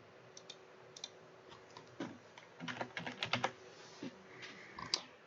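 Someone types on a computer keyboard, with quiet, irregular key clicks that come singly at first, then in quicker bursts and clusters, with no speech.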